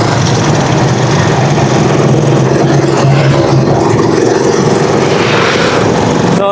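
A Rusi Chariot 175 motorcycle engine runs loud and close in a steady, continuous drone with no speech over it.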